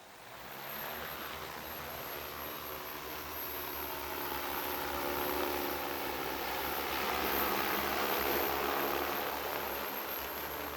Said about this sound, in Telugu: ఇప్పుడు నేను జస్ట్ స్లైడ్ చేస్తాను చూడండి డ్రోన్ ఆటోమేటిక్గా టేక్ ఆఫ్ అయిపోతుంది